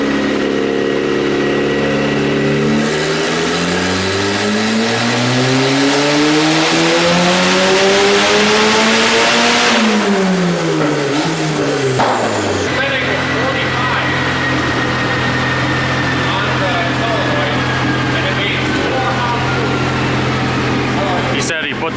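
A turbocharged Honda engine revs hard on a dyno, its pitch climbing steadily to a loud peak, then dropping away and settling into a lower, steady drone.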